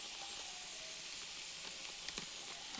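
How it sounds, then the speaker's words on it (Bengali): Onion and carrot fry in a pan with chowmein masala spice mix for street-style noodles: a continuous moderate sizzle, with a few soft stirring taps near the end and no speech. "পেঁয়াজের গাজরটি কিছুক্ষণ ভেজে নেওয়ার পর এখানে দিয়ে দিচ্ছি চাউমিন মশলা"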